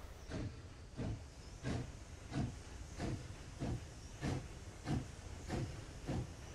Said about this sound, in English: That has got a beautiful chuffing sound. We're dragging that snowplow.